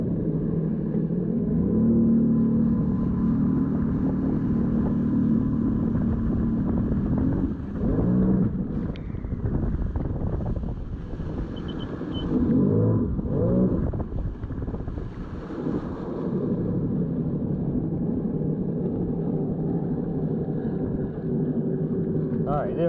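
Sea Doo Spark personal watercraft, fully built, engine droning steadily and loud throughout with wind buffeting, briefly dipping and surging near the middle, while people talk over it.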